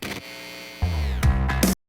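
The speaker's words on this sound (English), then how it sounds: "the first sound you hear is the sound of like the distortion of the guitar cable" A guitar cable is plugged in, giving a harsh electrical buzz and mains hum with crackling pops as the jack connects, loud and close, cutting off abruptly into silence.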